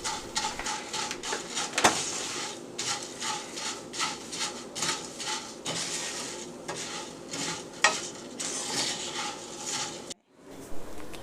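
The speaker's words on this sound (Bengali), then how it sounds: "চানাচুর দিয়ে মুড়িটা নাড়াচাড়া করতে হবে" A spoon stirs and scrapes puffed rice mixed with chanachur in a pan, making steady rustling, scraping strokes with light sizzling and an occasional sharp clink of metal against the pan, with no talking.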